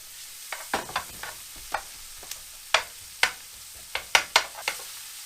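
Onions frying in a pan over a quiet sizzle, punctuated by a dozen or so sharp, irregular clicks and taps of stirring, nearby and free of speech.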